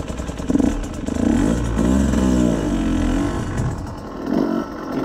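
A Husqvarna TE150i motorcycle runs on its soft engine map, its close engine note rising and falling through several throttle blips with some clattering.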